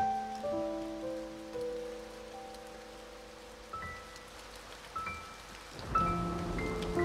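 Soft, steady rain patters on a surface beneath sustained musical tones in the video game A Bird Story, with a few faint knocks and a louder chord near the end.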